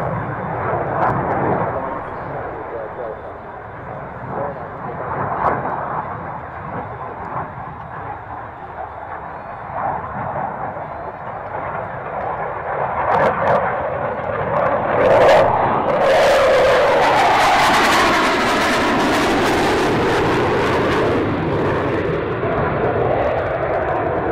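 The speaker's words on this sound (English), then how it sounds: "we've got some noisy aircraft coming up this evening" Loud military aircraft at RAF Mildenhall rumble in the evening, a low broad roar that builds and grows louder toward the end, with a voice talking over it early on.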